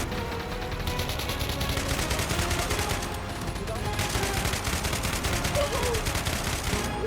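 Minecraft gunfire crackles in dense, continuous bursts like rapid automatic fire, loud and sustained throughout with brief lulls and faint voices underneath.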